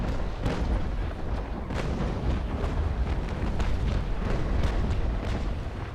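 Ship cannons fire in a naval sailing battle in the Naval Action video game, with a dense, continuous barrage of heavy booms and rumbling blasts overlapping loudly throughout.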